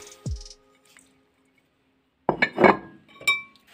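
Sugar is mixed into carrot cake batter in a bowl, with a spoon clinking against the bowl, a short thud, then a few scraping and clattering strokes close by after a silent pause.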